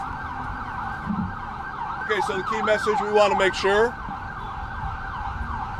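A passing ambulance siren wails steadily, with a wavering tone that swells loudly midway through, near a city street by a sinkhole repair site while someone speaks over it.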